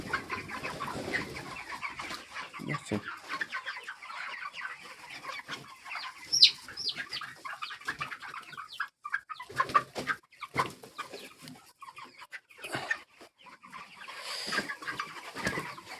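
Chickens cluck and murmur softly in an enclosed space, scattered calls rising and falling at moderate distance, with occasional sharper squawks.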